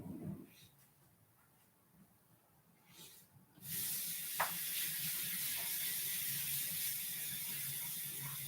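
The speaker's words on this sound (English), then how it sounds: "You'll even hear the water running." Water running from a tap while hands are washed, a steady broadband splash that starts abruptly and continues evenly, fairly close, with a brief knock partway through and no talking.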